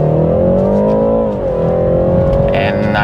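A base BMW 330i accelerates hard from the cabin, its engine note rising steadily and loud in a continuous strained drone with no gear break before easing slightly.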